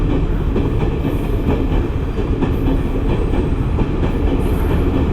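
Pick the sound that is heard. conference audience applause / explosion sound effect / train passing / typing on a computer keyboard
train passing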